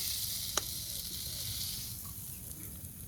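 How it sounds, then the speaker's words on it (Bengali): Beaten eggs sizzle with a steady soft hiss in a wok, fairly faint, broken by one sharp tap of a utensil early on. "এখন এই কড়াইতেই দুইটা ডিম ঝুরি ঝুরি করে ভাজবো"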